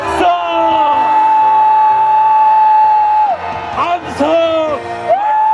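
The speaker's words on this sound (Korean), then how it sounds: "함성 발사!" A crowd at an outdoor national emergency prayer rally in Sejong, Korea, lets out a loud, sustained roar lasting several seconds, then breaks into shorter whoops and yells.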